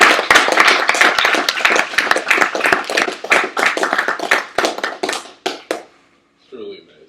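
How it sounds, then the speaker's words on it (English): A room of attendees at a WebGL developers meetup claps loudly and densely in close, crisp bursts, the applause thinning out near the end before a short voice comes in. "let's have a big round of applause"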